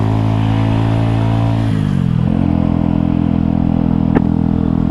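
A Mutt Fat Sabbath motorcycle engine drones steadily and loudly throughout a ride, its pitch dipping briefly as it shifts, with a short clatter near the end and no talking.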